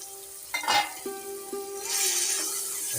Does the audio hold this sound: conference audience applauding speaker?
no